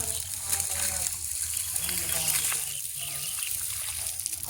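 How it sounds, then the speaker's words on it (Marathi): A solar water heater tube is drained of water left scaled by mineral deposits, giving a continuous gushing, splashing flow close by, with a voice talking over part of it. "ही ट्यूब आपण पूर्ण खाली करतोय"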